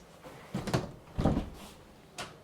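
Cabinet doors in a 2024 Montana Legacy 3901RK luxury rear-kitchen RV open with a few soft thumps and knocks, close by and quiet, with no talk.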